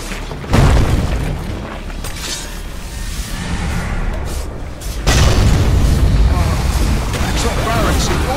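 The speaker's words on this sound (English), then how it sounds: "top tower has fallen!" A tower collapsing in the video game Dota 2 gives a loud booming crash with crumbling debris, followed by a second heavy impact about halfway through, all under constant game sounds and voices.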